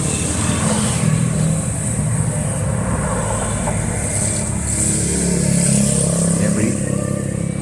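A motorcycle engine idles steadily after a carburetor repair at a mechanic's place in Bohol, its low continuous rumble filling the whole stretch, with wind or traffic noise over it and voices in the background.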